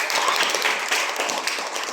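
An audience at a village contest prize-giving claps steadily in a dense, even burst of applause lasting the whole two seconds, with no clear voices over it.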